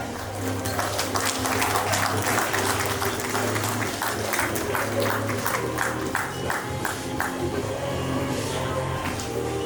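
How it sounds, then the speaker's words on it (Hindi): At an award ceremony at St. Xavier's College, Ranchi, the audience applauds during the presentation of a memento: continuous crowd clapping over a steady low hum, lasting nearly ten seconds. "जोरदार तालियां"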